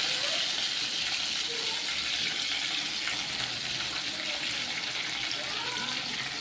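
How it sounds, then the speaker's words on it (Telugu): Green chillies, curry leaves and onions frying in hot oil for paneer curry, a steady loud sizzle and hiss running continuously without pause. "అందులో మనం ముందుగా కట్ చేసుకున్న పచ్చిమిర్చి, కరివేపాకు, ఆనియన్స్ అన్నీ వేసుకొని బాగా ఫ్రై అయ్యేలా చూసుకోవాలండి"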